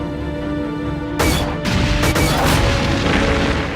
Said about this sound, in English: These explosions in Sims are pretty solid too